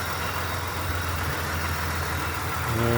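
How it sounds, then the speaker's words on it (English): A 2004 Chevrolet Impala SS idles steadily after a supercharger oil change. Its supercharged 3800 Series 2 V6 gives a smooth, even hum with a low tone that rises slightly at the end. "Car running nice and smooth after the Supercharger oil change."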